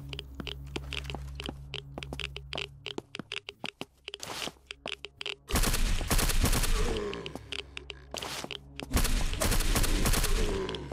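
Pistol shots fired at zombies in a video game, a run of sharp single cracks followed by louder, denser bursts of gunfire with impacts, close and punchy with no talk.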